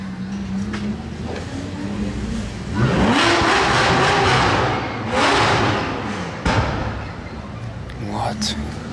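Supercars accelerate along a road in Juan-les-Pins, engines rising in two loud surges as they pass close by, with voices and street noise around them.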